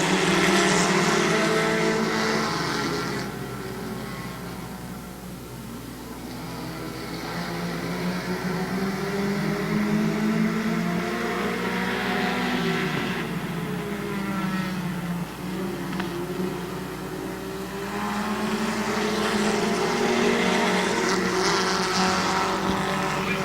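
Race cars in the officials race at Midvale Speedway's 2013 Fall Classic roar around the track as a pack, engines droning loud and steady with swelling passes, no talk.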